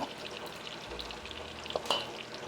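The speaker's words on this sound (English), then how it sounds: "Won't take long for the bacon to cook." Bacon frying in a cast iron pan with moose burgers, a steady close crackling sizzle with scattered pops and a couple of sharper spits near the end, no voices.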